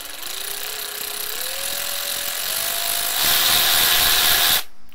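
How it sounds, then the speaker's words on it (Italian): A Parkside 12V cordless ratchet screwdriver, the PAR 12 A1, spins close by with a motor whine that climbs in pitch as speed increases, then cuts off abruptly near the end. "Vi faccio vedere che più premo il tastino più velocemente ruoterà"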